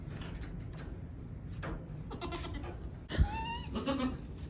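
A newborn kid goat gives a close, thin, wavering bleat near the end, preceded by rustling and soft indoor noises, with no speech.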